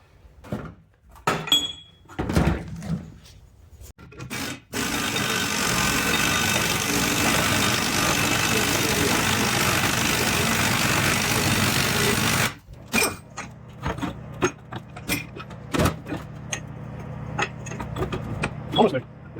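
A lathe turns down a truck track bar bushing for an F-250 with a steady mechanical whir lasting several seconds in the middle, framed by clanks, handling noises and people talking before and after.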